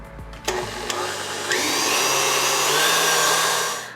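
An electric mixer whisks a cookie sugar mixture, a steady close whirring drone that starts up after a few brief clicks and runs continuously to the end.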